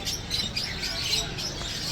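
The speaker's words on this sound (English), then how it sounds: "There's a load of birds here too." Small birds chirp and tweet at an animal market in Chengdu, a few brief high calls over a busy, murmuring background.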